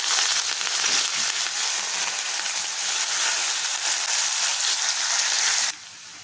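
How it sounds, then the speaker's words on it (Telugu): Onion pieces and curry leaves frying in hot oil, a steady, loud, close sizzle with faint stirring, running without a break until it drops away near the end. "ఈ ఉల్లిపాయ ముక్కలు కరివేపాకు కూడా చక్కగా ఇలా వేగాలండి."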